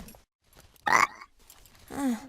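A frog croaks twice in the fantasy adventure game The Book of Unwritten Tales 2, with a loud, close croak near the start and a lower, drawn-out croak at the end, separated by quiet gaps.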